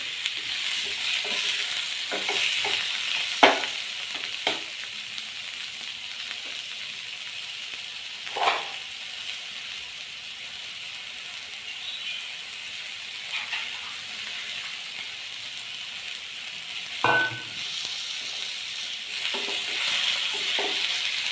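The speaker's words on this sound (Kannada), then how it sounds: "ಇದು ಫ್ರೈ ಆಗಲಿ ಸ್ವಲ್ಪ ಹೊತ್ತು." Food frying in a pan in a home kitchen gives a soft, steady sizzle over a long stretch, punctuated by a few sharp taps and scrapes from a spoon, with no talking.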